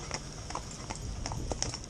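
Hooves of a young cob horse clip-clopping at a steady walk, fairly faint and distant, with a soft rhythmic beat and no talking.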